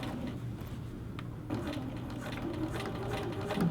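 A sewing machine stitching the underlap of a little girl's dress zipper, a steady quiet mechanical whir with faint rhythmic needle ticking throughout.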